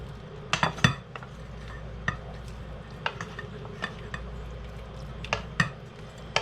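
Metal utensils scraping and clanking against a pan while cooked broccoli beef is scooped into a bowl, a scattering of sharp clinks and taps over a soft, steady background of faint sizzling.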